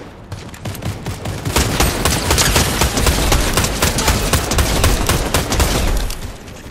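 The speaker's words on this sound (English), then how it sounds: "They're taking snipes at us." Gunfire in a Fortnite match while the squad takes sniper fire: a dense, irregular barrage of sharp shots and impacts running throughout, fairly loud and continuous.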